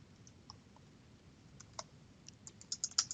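Quiet typing on a computer keyboard: sparse, faint key clicks at first, then a quickening cluster of sharper keystrokes toward the end, near but low in level against a soft background hiss, with no voices.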